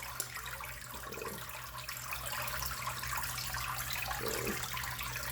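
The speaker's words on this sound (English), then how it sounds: "And I have well water, so I just pour it straight out of the tap." Well water runs from a tap to fill a small 5-gallon planted fish tank, a steady close stream that swells slightly louder partway through and pours on without a break, with no talking.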